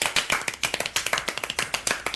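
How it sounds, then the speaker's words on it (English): A small group claps in quick, uneven bursts, a brief round of applause close by with no voices. "how's about a round of applause?"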